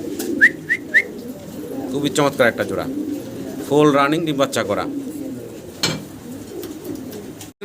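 Pairs of Brahma pigeons cooing in a loft, short repeated coos and throaty rolling calls heard close, mixed with someone talking over them.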